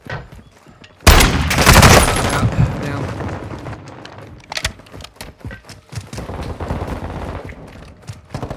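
Shotgun blasts with explosive slugs in a first-person shooter game: a loud booming burst opens the clip, followed by several sharper shots and scattered gunfire at irregular intervals.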